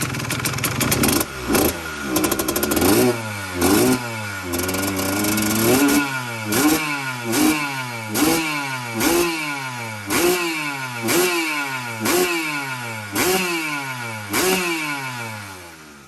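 A Kawasaki KX125 two-stroke motorcycle engine, freshly rebuilt from parts, idles and then revs repeatedly in sharp, rising blips that fall back between each throttle stab, loud and close with no talking.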